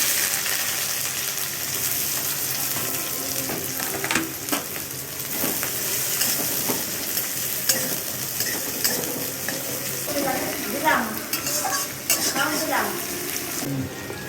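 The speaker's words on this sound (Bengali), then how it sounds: "একটুখানি আমরা তেল দিয়ে দিলাম, পেঁয়াজ আর লঙ্কাটা এর মধ্যে দিয়ে দেবো" Onion and chili frying in oil in a wok, a continuous hot sizzle with frequent spatula scrapes and metallic clinks against the pan, close and fairly loud.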